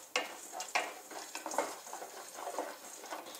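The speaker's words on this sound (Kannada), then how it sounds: "ಅದೇ ಪಾತ್ರೆಲಿ ಮೆಣಸು ಜೀರಿಗೆ ಅಜವೇನ ತಗೊಂಡಿದ್ನಲ್ಲ ರೀ ಅವನು ಸ್ವಲ್ಪ ಹುರ್ಕೋತೀನಿ" Black pepper, cumin and ajwain dry roast in a pan over a low flame, with faint dry rattling and scraping as they are stirred, and a few brief sharper clinks, all without speech.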